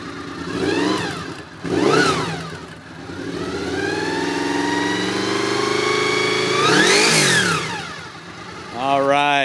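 A Honda VFR800i motorcycle engine revs up and down repeatedly, loud and close, with rising and falling whines and a sustained high-pitched run in the middle.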